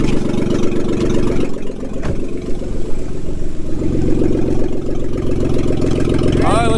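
A car engine whose oil was replaced with White Claw hard seltzer idles before a burnout, a loud close rumble with a steady throb and slight revs.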